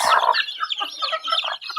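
A brave mother hen with seven chicks on a free-range farm, clucking close and loud at first, followed by a run of high, rapid peeping and chirping from the chicks.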